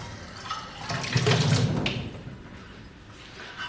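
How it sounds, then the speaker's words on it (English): Running tap water rinses gold measuring cups in a kitchen sink, swelling into a brief splashing rush before tapering off to a faint trickle. "I'm gonna use these measuring cups, these gold measuring cups. I have, so let me rinse it out"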